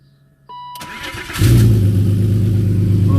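Turbocharged M54 engine in a BMW E39 cranking, catching and settling into a loud, rough, steady idle right up close, with no talk.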